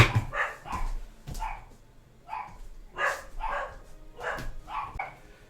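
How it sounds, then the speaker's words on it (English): Several dogs barking nearby in repeated short bursts, sharp woofs arriving in irregular clusters with brief pauses between, loud and clear with no talking over them. "I'm gonna go see what they're barking at."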